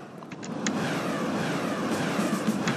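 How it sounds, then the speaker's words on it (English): Aircraft engines drone overhead in the game Surviv.io, a steady swelling rumble that grows in the first half second and then holds, with a few faint short blips over it. "Okay, the airplanes are very annoying."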